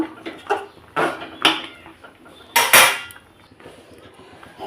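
A metal pot of jute leaf broth is lifted off a stove, giving a few separate clanks and scrapes, the loudest a sharp clatter about halfway through, with quiet gaps between them.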